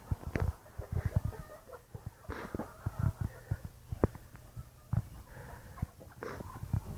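Chickens and a rooster cluck in short, irregular bursts, some close and some farther off, with faint background noise between calls.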